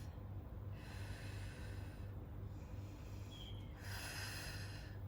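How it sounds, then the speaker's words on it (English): A long, deep breath during a Pilates spine mobility exercise, heard as airy rushes close to the microphone: one exhale, a brief pause, then another strong breath, over a steady low hum. "with the exhale, take all the air out"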